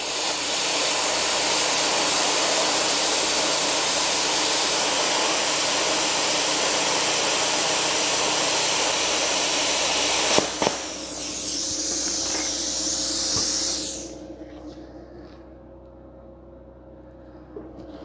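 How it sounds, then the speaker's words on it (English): A BestArc BTC500DP plasma cutter on 110 volts at 35 amps slices through quarter-inch steel with a loud, steady roaring hiss that carries on for about ten seconds, then drops away to a faint hum when the cut ends. "I'm going to go ahead and attempt the first cut with the BestArc plasma cutter."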